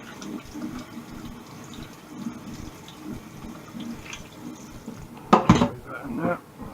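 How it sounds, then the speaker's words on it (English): Cold water splashes briefly into a pan of cooked macaroni, a short loud burst near the end that follows quiet kitchen clatter while someone speaks. "Just going to put a wee bit of cold water onto this, and it's just going to stop it cooking,"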